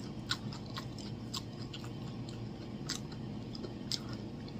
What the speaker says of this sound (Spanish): ¿Cómo les gusta verme tragar?